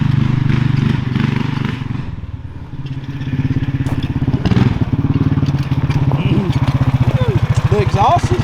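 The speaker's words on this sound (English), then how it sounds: "The exhaust is actually super mild on this thing." A 460 big block engine swapped into a Yerfdog Spiderbox buggy idles through a mild exhaust with a deep, lumpy rumble that pulses rhythmically and revs a little midway, close and loud.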